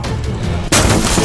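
A Gatling gun firing in a Fallout: New Vegas–style video game, a dense burst of rapid, loud gunfire that breaks in abruptly and keeps roaring without pause.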